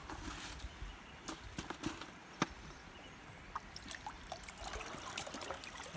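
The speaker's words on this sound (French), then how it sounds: "On immerge, on secoue comme un pan" Gravel in a Gold Hog flow pan is shaken under water, giving a faint, uneven sloshing and trickling with scattered small clicks of stones.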